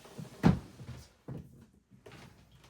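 A wheeled craft cabinet's doors are opened indoors: a soft knock and thud, then a quieter second bump and faint rolling rustle, with no one talking.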